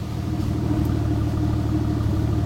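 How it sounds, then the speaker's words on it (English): A car engine with a misfire runs steadily and close by, its low exhaust rumble carrying an uneven, skipping beat in the flow. "When you hear that, like it's interrupting in the exhaust flow, like boom, that's a miss."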